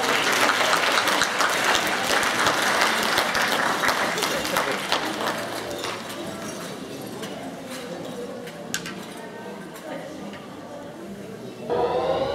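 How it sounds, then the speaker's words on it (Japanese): Sustained applause from an audience welcoming a dance performance at an international exchange flea market in Shimizu, Japan; dense clapping that gradually thins and fades, with a few scattered claps near the end. "皆様拍手を持ってお迎えください。"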